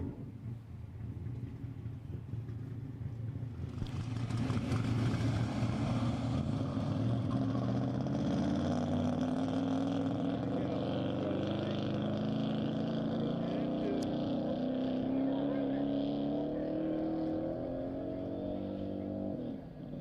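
Land speed race car engine running on the course at Speedweek, pulling off the push truck in what may be the wrong gear and seeming to lack power; a loud, sustained roar with a rising drone that builds after a quieter start.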